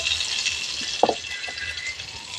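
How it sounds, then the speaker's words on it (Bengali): Prawns sizzle in hot oil in a pan as they are lifted out, a steady frying hiss with a brief clatter of a utensil midway. "ভাজা হয়ে গেছে, চিংড়ি মাছগুলো তুলে নিচ্ছি।"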